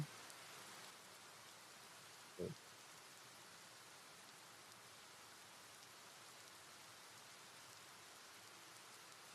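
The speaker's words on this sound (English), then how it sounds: "We got rain, kids." Steady rain falls on a surface, a soft even hiss filling the whole stretch, with one brief low thump early on and no voices.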